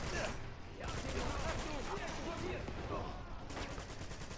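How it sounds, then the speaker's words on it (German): Gunfire from the Uncharted 2 video game rattles as dense, fairly quiet bursts of shots throughout, blending with muffled game noise and battle ambience. "Ohne Sinn haben die direkt auf mich geschossen."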